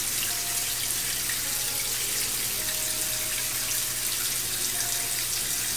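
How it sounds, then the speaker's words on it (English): Tap water runs steadily into a sink while hands are washed with plain original white Dove bar soap, a constant close hiss with no talking. "I'm just washing everything with Dove, simple Dove soap"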